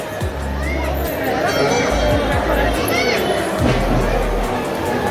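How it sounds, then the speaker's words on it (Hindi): Dense crowd of devotees at Harsiddhi temple in Ujjain, a steady babble of many voices close around, with scattered louder calls rising over the continuous hubbub throughout. "यहाँ भी भक्तों की भीड़।"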